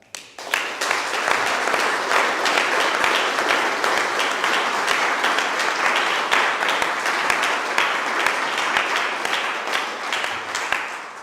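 An audience at an anti-fascist Victory Day commemoration breaks into sustained, fairly loud applause, with many overlapping claps forming a steady roar from start to finish.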